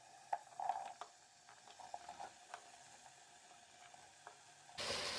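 Flat beans and radish fried with cumin, fenugreek and fennel seeds in a pan, quiet gentle sizzling with faint scattered pops and spatula taps, then a louder rush of sound near the end.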